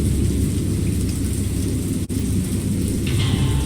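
A thunderstorm in the horror video game Dagon fills the scene with steady, heavy rain and a continuous low rumble of thunder. A single brief crack cuts through midway. No voices.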